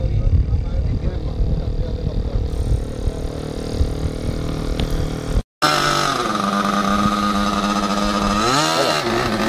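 A small model airplane engine runs with a high, buzzing whine, loud and close, shifting pitch as it revs; a brief dropout splits the sound midway, and voices can be heard over it.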